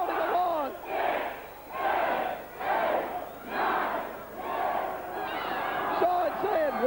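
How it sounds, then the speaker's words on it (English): Wrestling arena crowd at a Bunkhouse Brawl chanting in unison, six loud rhythmic roars about a second apart, a big audience counting along together. "The crowd counting along."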